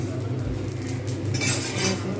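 A spatula scrapes and clinks in a pan as rice is dry-roasted for laddus, a short close burst of stirring over low background hum.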